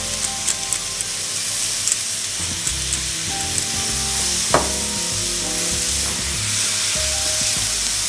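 Burger patties fry in a hot pan with a steady, close hiss and crackle, and a brief sharp tap cuts in once partway through.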